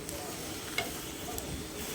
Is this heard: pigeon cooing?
no